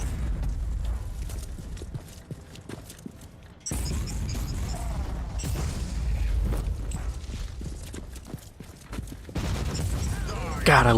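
Rapid weapon fire from a Crusader's gun in Warhammer 40K: Inquisitor - Martyr, with dense fusillades of shots and booming impacts that keep rolling and cut in and out across the stretch.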